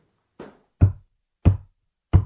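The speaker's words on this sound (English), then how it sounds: "they hear strange knocks on the walls" Four sharp, hollow knocks on a wall, a softer first rap followed by three firm ones at an even, deliberate pace, crisp and close against near silence, as a haunted-mansion sound effect.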